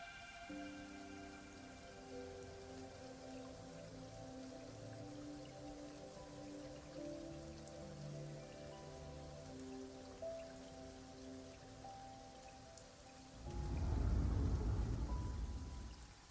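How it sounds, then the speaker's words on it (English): Rain falls indoors in the video game Wuthering Waves as a faint, steady patter beneath soft sustained music, followed by a brief swell of louder, rumbling noise at the end. "why is it raining inside?"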